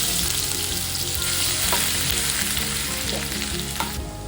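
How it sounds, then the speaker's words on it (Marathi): Butter sizzles steadily in a hot pan as the base for tandoori crab, a continuous close, loud frying hiss with a few small pops. "आपण इथे बटर टाकून घेऊया."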